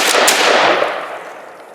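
A single loud close gunshot from a WBP Fox AK-pattern rifle during test firing, a sharp crack followed by a long decaying echo, with no talk.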